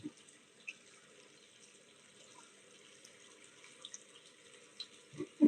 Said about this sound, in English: Right now I got the water on hot.